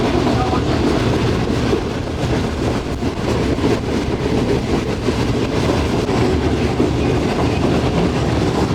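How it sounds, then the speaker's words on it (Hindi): Shalimar Express hauled by locomotive 9066 rolling along at speed, a loud, dense rattle and rumble of coaches with clickety-clack from the wheels on the rails, continuous and close. "9066 बड़ा अच्छा चल रहा है जी, बहुत अच्छा हॉल कर रहा है ट्रेन को"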